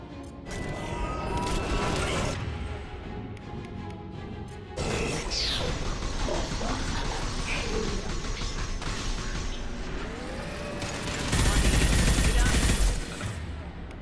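Gunfire in a sci-fi firefight from Mass Effect 2, with rapid bursts of weapon fire, mechanical clatter and impacts that continue throughout, and a louder heavy burst near the end.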